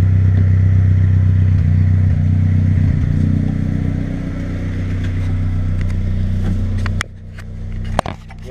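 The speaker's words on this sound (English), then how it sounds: "We got a steady idle." A Suzuki X90 with a crankshaft position sensor fault sits at idle, its engine rumbling steadily and loudly up close, then dropping in level near the end with a couple of sharp clicks.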